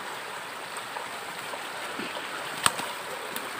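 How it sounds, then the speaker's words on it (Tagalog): A forest stream flows in a soft, steady rush, heard alone at low level with a faint click or two. "dito tayo sa sapa"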